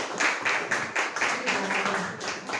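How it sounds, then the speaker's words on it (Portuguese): A small audience at a literary academy gathering claps in a quick, pulsing rhythm of distinct bursts. The applause is moderately loud and close, with no clear voices over it. "Vamos receber uma salva de palmas, por favor"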